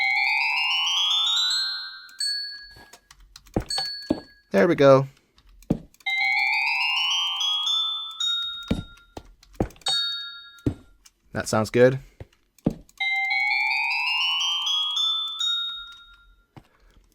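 Minecraft note blocks play Jingle Bells as quick, plucky chiming notes in short rising phrases, separated by pauses and clicks, with someone briefly talking between the passages.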